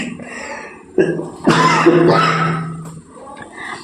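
A couple of harsh, throaty coughs, close and loud, followed by a raspy clearing that fades out.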